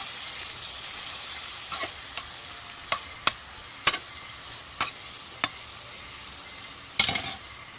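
Vegetables stir-fried for pakbet sizzle steadily in a pan, with scattered sharp clinks and scrapes from a spatula against the pot breaking through the constant frying hiss.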